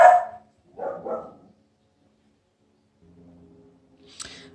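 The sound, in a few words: dogs barking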